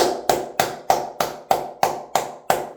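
Nine sharp, evenly spaced claps roughly a third of a second apart, close and fairly loud, each decaying quickly with no voices over them.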